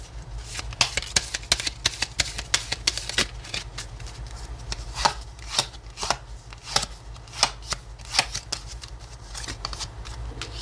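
Tarot cards being shuffled and drawn, a dense run of crisp papery riffles and flicks, close and fairly quiet, with a few sharper snaps as cards are laid down over about ten seconds.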